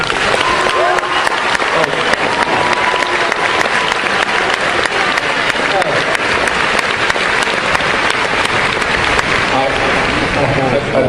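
A live debate audience claps in sustained, dense applause that stays loud and even for the whole stretch, with no pauses.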